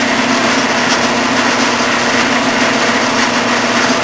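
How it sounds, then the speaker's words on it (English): Machine-shop tapping machine running in reverse to back a tap out of a workpiece: a steady, loud, high-pitched motor whine that holds evenly for the whole stretch, with no talking. "I'm going to reverse the machine, and then"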